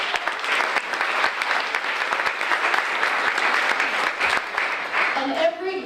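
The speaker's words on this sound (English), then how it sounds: "So give yourselves another round of applause." An audience at a 2018 Small Business of the Year award ceremony claps in sustained, dense applause for several seconds, fading slightly as a voice begins at the very end.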